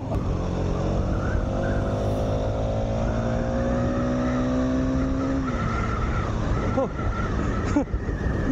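A KTM Duke 390 motorcycle accelerates hard in fourth gear, its engine note climbing steadily in pitch before dropping off. A rougher, fluctuating roar follows, all loud and close.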